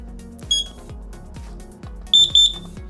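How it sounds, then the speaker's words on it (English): A few short high-pitched electronic beeps from a Brilliant WiFi smart smoke alarm, one early then a quick cluster of three, over faint clicking and button-pressing noise. "You just long press this for 3 seconds until you hear a set of beeps."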